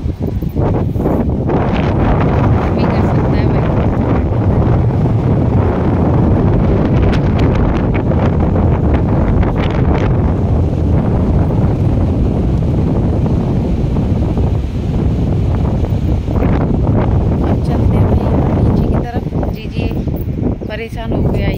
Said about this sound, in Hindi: बहुत तेज हवा का चल रही है, आंधी चल रही है एक तरह की।